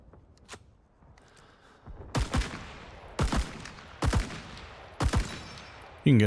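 A sniper rifle fires in Rising Storm 2 with an ARVN weapon: a faint early shot, then four sharp, loud cracks about a second apart, each with a short tail, followed by a heavier final thump.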